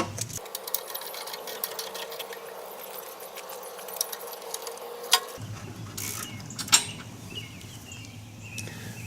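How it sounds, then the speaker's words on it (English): Trim bolts being tightened with a ratcheting tool during a TurboSwing install on a 300hp Evinrude E-Tec G2 outboard, giving quiet, rapid mechanical clicking close by, followed by a few sharper knocks against a faint background hum. "I just need to tighten these trim bolts on, which are on these sides here."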